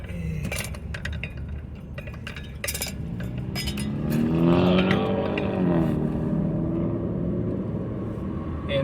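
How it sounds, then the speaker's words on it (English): A car engine idling and then rumbling more strongly as the vehicle is moved near a roofing job, mixed with scattered metallic clinks and knocks early on and a rising drone midway. "You might have to move the car a little bit."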